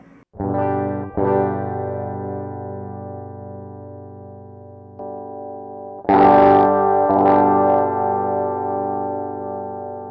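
Sustained distorted electric guitar chords through a pedalboard preamp ring out, a few strums across the clip, with a louder, brighter stretch of chords near the end.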